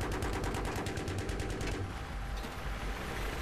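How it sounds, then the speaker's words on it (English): Rapid automatic gunfire in Battlefield 3 from a helicopter support position, a loud burst of evenly spaced shots for under two seconds, then a dense rumbling wash of distant firing and explosions with no voices. "Shoot the people they're shooting at."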